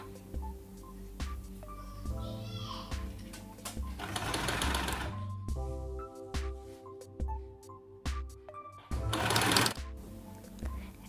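A sewing machine runs in bursts while stitching fabric for a child's dress, its rapid mechanical whir starting and stopping close by, with faint clicks and handling noises between runs.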